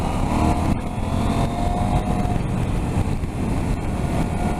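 A KTM 790 Adventure motorcycle engine hums and revs while the bike is ridden along a country road, holding a steady, fairly loud drone mixed with wind rush, with no voices heard.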